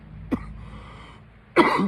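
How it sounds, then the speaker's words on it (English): Two coughs from a cannabis smoker: a short, sharp one early, then a louder, harsher burst near the end after a quiet pause. "This is the cannabis cough that you're hearing also."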